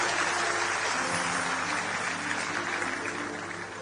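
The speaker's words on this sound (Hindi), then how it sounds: "आपकी तालियां कमजोर पड़ गई हैं" A large audience at a Hindi poetry gathering (kavi sammelan) claps steadily, a dense, even wash of applause that softens slightly toward the end.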